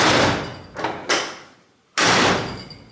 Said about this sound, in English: The next part of our plan, close the door.